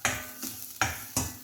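Grated coconut sautéed in a pan for a Punarnava leaf thoran, stirred in repeated scraping, sizzling strokes about every 0.4 seconds, close and fairly loud with no voices.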